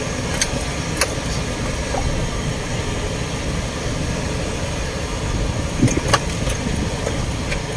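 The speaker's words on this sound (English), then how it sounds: "Fully loaded sugarcane truck." A fully loaded sugarcane truck's engine rumbles steadily nearby with broad road and engine noise, punctuated by a few light metallic clinks, with no speech.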